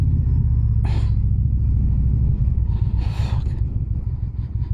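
Steady deep rumble of a truck idling close by in traffic, heard from a motorcycle, with a constant low drone throughout and a couple of brief higher whooshes over it.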